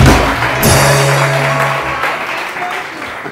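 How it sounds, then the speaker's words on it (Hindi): Studio audience applause on a morning TV show, a dense burst of clapping with a steady wash of noise under some speech and a sustained tone, continuing loudly for about three seconds. "सब ये धड़ धड़ तालियां बजा रहे हैं"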